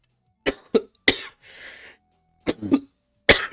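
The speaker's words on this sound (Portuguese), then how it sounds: "Eu tô tossindo." A person coughs several times in short, sharp bursts, with a brief raspy throat-clearing breath in between, close and alone without talk.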